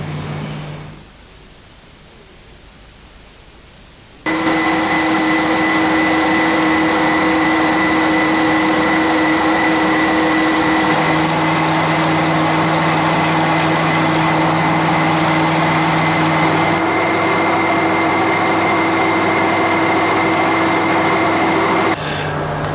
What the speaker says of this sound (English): The VB is the best lathe in my workshop.